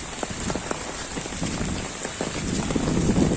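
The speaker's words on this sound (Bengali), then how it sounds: "মুসলধারে বৃষ্টি হয়ে যাচ্ছে" Heavy monsoon rain pours steadily outside a government primary school, a dense hiss with scattered drops pattering loudly on a nearby surface, growing slightly stronger toward the end.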